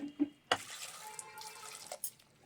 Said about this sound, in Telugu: ఒక గ్లాస్ వాటర్ వేసాను.